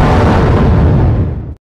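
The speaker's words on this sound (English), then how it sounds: "The bomb had just exploded because you wasted all your chances." A cartoon bomb explodes in an animated game, a loud, dense blast that roars steadily for about a second and a half before cutting off abruptly into silence.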